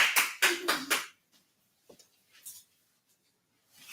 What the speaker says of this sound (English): Y'all give her a hand. Make sure you clap for her.